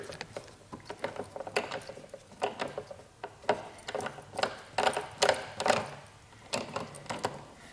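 Ratcheting wrench loosening the 8mm rider seat bolts on a 2015 Yamaha YZF-R3 sportbike, a close series of quick metallic clicks and short bursts repeating in uneven rhythm.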